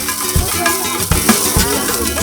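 Steady sizzling and crackling of a honeybee nest with larvae frying in a hot wok, with a few stirring scrapes, close up.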